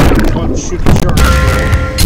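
Booming gunshots while shooting sharks in the Shark Attack 2 video game, a few heavy blasts close and loud over game noise, with a voice talking over them.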